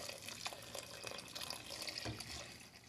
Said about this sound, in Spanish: ya le vamos a agregar la leche